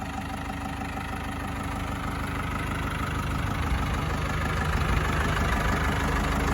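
A farm jeep engine idles steadily nearby, a continuous low rumble with a slight knocking beat that holds at an even level throughout, with no talk.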